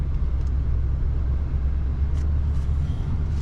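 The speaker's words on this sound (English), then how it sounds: "I'm going to move the truck" A truck, just after an ABS sensor repair, drives back to its parking space with a steady low engine rumble and road noise heard from inside, constant and fairly loud throughout.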